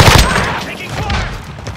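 Rapid gunfire from Call of Duty: Modern Warfare bursts loud and dense, a rattling volley with heavy low thuds that continues steadily throughout, with shouted voices mixed in.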